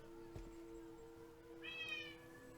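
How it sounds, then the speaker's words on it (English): In a video game, a cat meows a few times over a steady electronic background hum, the meow rising clearly in the second half. "I can hear a cat."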